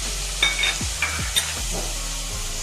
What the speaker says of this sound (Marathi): आणि एकदम हलवून घेतो थोडंसं।